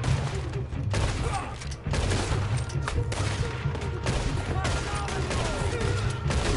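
Dense gunfire in Red Dead Redemption 2 on the island of Guarma, with overlapping shots and booms forming a loud, continuous barrage.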